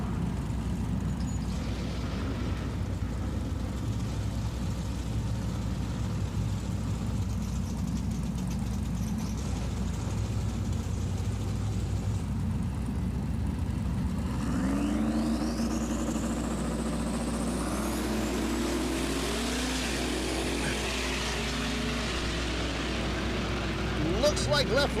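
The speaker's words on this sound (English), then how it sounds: "Pair of Mustangs again getting lined up here on our small tire" A pair of Mustang drag cars lining up at a small-tire West Coast Grudge event: a steady low rumble of big engines idling, with a rising whine sweeping up midway, amid loud track ambience and an announcer's voice.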